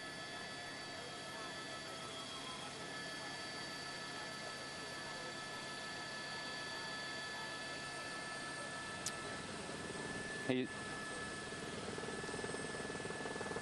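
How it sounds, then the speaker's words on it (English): A Riverside police helicopter hovers overhead during a police chase, giving a steady, faint, continuous drone of rotor and engine noise with no speech. "that Riverside police helicopter is right on top of him"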